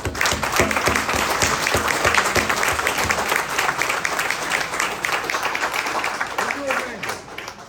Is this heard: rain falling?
no